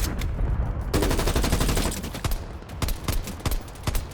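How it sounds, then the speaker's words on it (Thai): Gunfire rattles through a Call of Duty Black Ops Cold War match: a dense sustained burst of rapid shots gives way to sharp, separated single cracks, loud and close, with no talking. "ยิงช่วยยิงรถถังหน่อยช่วยยิงรถถังหน่อย"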